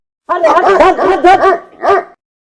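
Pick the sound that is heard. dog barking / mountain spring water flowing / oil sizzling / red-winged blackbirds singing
dog barking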